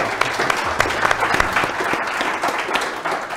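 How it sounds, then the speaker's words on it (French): Steady clapping from an audience, dense and continuous for a few seconds with no voices standing out. "Faut l'applaudir."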